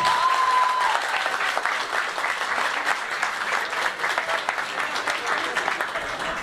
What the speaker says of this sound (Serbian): Jedan aplauz veliki za njih.